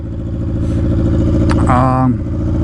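A Yamaha R6 sport bike running with no exhaust gives a loud, close, buzzy engine drone with a steady pulsing rhythm, and a brief voice-like tone rises over it near the end.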